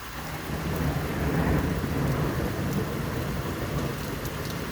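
Thunder rumbles through a steady thunderstorm downpour, a dense low roll swelling near the middle and holding under continuous hiss of rain on surfaces, with no voices.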